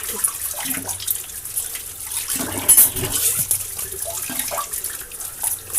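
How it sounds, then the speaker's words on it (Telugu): Spoons and a kadai are washed under running water: a close splashing, trickling flow with uneven bursts and faint clinks as the utensils are handled. "స్పూన్స్ కడిగేస్తూ కడాయి ఒకటి ఉంది మిగిలిన తర్వాత కడిగేసుకున్నాను"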